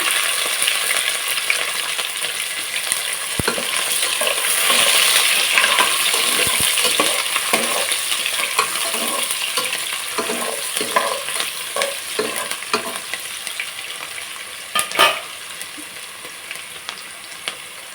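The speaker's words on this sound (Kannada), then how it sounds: "ಈರುಳ್ಳಿ ಹಾಕಿ ಎಣ್ಣೆಗೆ ಸ್ವಲ್ಪ ಟೈಮು ಚೆನ್ನಾಗಿ ಫ್ರೈ ಆಗಬೇಕಿದೆ." Onions frying in oil for a veg biryani, a continuous close sizzle broken by frequent scraping stirs and occasional sharp metal clinks from the utensil against the pan, with no talking.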